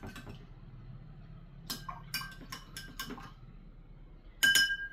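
Soap particles stirred in a glass with a spoon, giving a few light clinks and taps against the glass over a low background hum, with a sharper cluster of clinks near the end.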